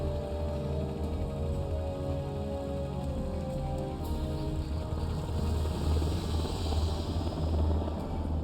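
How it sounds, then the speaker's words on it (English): An Mi-24 Hind Soviet attack helicopter in Metal Gear Solid, heard as a steady low rotor drone and engine hum that stays constant and fairly loud throughout, with no voices. "That's an Mi-24 Hind. That's a Soviet attack helicopter."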